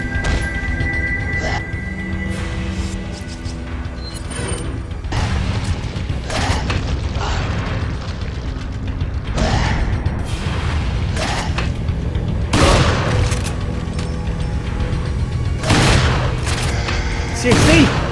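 Enemy gunfire in Resident Evil 4 on Professional mode, a run of sharp, close shots and booming blasts at irregular intervals over a dense, noisy game background.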